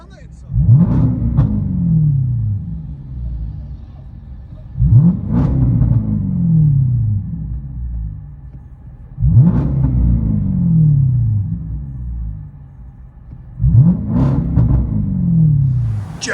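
Straight-piped 5.0L supercharged Jaguar XJL heard from inside the cabin, four repeated loud revs that each rise into a deep, raspy exhaust roar, hold briefly and fall back to a rumbling idle.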